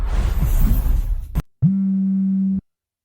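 A single steady electronic phone tone sounds once for about a second, right after a burst of noisy background sound cuts off. The tone is loud and close, with no talking over it.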